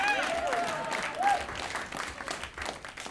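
Applause from a live stand-up comedy audience in Rwanda, with a brief whistle near the start. The clapping is moderately loud, swells, then eases off, and voices murmur and cheer through it.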